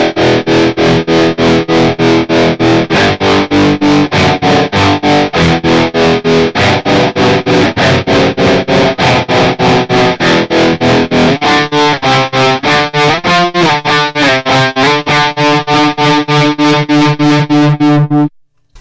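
Distorted electric guitar chords pulse through a Sentimental Bob Tacana Tremolo pedal set to a triangle waveform, with a fast, even, choppy volume throb that keeps a steady rhythm and stays loud throughout before a quick stop.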